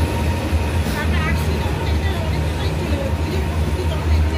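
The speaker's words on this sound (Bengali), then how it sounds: "ট্রেনটাও চলে এসেছে।" The Lalgola Express pulls into a railway station with a steady, loud low rumble of rolling wagons, while crowd babble from the platform runs underneath throughout.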